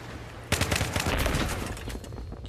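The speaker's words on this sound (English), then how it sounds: "Wait, that's a grenade." Battlefield 3 combat: a sharp grenade blast opens into dense, rapid gunfire that rattles on loudly for about two seconds, then thins out near the end.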